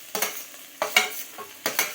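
Diced potatoes tossed into a pan of fried onions for poha set off three short bursts of sizzling and scraping, each rising sharply and fading, close and fairly quiet.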